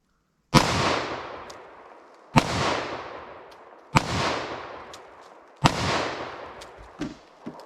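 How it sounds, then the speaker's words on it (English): Four loud, sharp .357 SIG pistol shots fired at a pumpkin, each a sudden crack with a decaying boom that rings out over roughly a second, spaced about 1.5 seconds apart, followed by a fainter pop at the end. "All right, a few more shots of 357 SIG. Keep going here."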